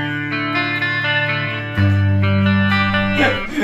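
A cheap Gibson-style electric guitar on a clean tone with the bridge pickup plays a few sustained notes and chords, moving to a louder, fuller chord partway through, bright and close.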